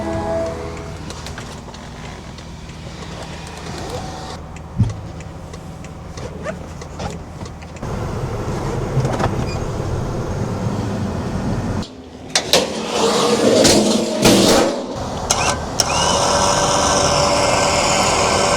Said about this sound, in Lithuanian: kas yra gerai, kad automobilis užsikuria ir eis įjungti neutralą